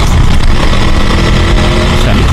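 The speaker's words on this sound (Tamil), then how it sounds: "That's GT650. எக்ஸாஸ்ட் நோட்டு கேட்டிங்களா?" Royal Enfield GT650 motorcycle's exhaust note, a loud, steady low rumble that runs throughout, close up, with no break or clear revving swell.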